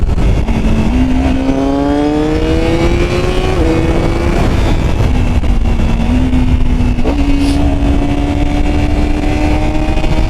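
A 2025 Honda CBR1000RR-R Fireblade with an Akrapovič full-system exhaust is ridden hard, its engine note rising steadily through gears with quick-shifter changes, loud and close-up with constant wind roar, no voices.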